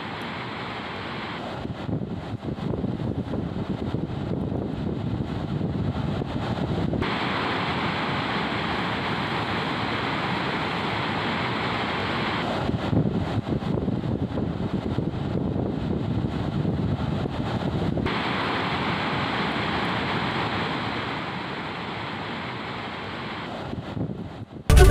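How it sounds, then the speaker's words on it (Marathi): Water rushing over the overflowing Kar dam in Karanja taluka, Wardha, after the first rain: a broad, continuous roar with wind buffeting the microphone, steady and loud throughout. "पहिल्याच पावसात धरण ओव्हरफ्लो झालंय"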